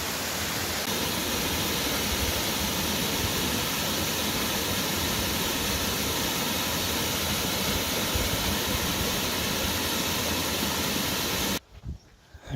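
Steady broadband roar of a waterfall in Nant Gwernol woodland, Wales, near a former quarry, continuous and loud for most of the span before cutting off abruptly near the end.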